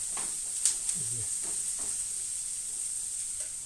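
Carrots sizzle in a pan with a steady hiss, a few soft stirring clicks early on, quiet and close.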